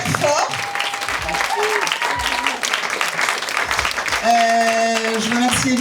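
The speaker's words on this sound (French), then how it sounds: "Donc vous pouvez vous applaudir super fort." Loud, sustained applause from a comedy show audience fills the room for several seconds, with whoops and cheering voices rising over the clapping.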